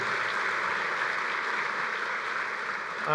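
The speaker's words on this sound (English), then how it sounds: "Give those folks another round of applause" Convention audience at a bowling association annual meeting gives sustained, even applause, a dense wash of many hands clapping at once, steady and unbroken for the whole stretch.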